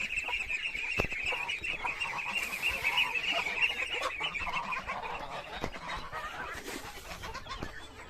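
Geese honk repeatedly in a noisy chorus, several birds calling over one another at moderate volume throughout.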